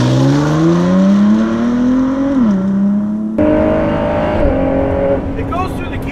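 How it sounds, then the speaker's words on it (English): A 2018 Ford GT accelerating hard on a gravelled hillside road, its engine note climbing steeply before quick upshifts drop the pitch, then rising again, loud and close. "It goes through the gears fast."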